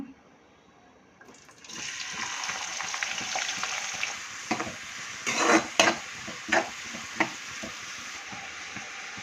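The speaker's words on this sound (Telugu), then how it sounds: "ఆయిల్ అయితే హీట్ అయింది అందులోకి సన్నగా కట్ చేసిన ఆనియన్ ముక్కలు అలాగే పచ్చిమిరకాయ ముక్కలు అయితే వేసుకుందాము" Thinly sliced onions and green chillies drop into hot oil in a pan and sizzle loudly and steadily, with a few louder stirring scrapes and clatters partway through.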